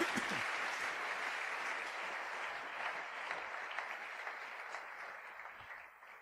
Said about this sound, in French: Acclamez les protocolaires classe.